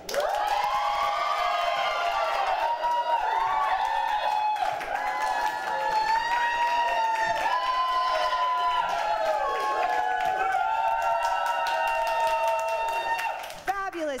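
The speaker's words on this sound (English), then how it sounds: "So get ready to cheer, audience." A studio audience cheering and whooping for a favourite panelist on a live fashion contest show, loud sustained crowd noise with high yelling voices throughout, ending in a brief drop.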